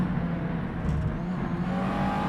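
A USF2000 open-wheel race car in a racing video game crossing the line at the Neva ring track, engine droning steadily and loud throughout with a sustained whine, no talk over it.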